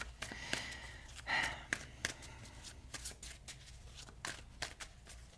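Tarot card deck being shuffled, a rapid series of crisp riffling snaps and flicks close up, irregular bursts with short pauses, fairly quiet with a breath or two between.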